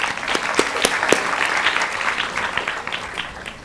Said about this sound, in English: Could we have a big round of applause for them?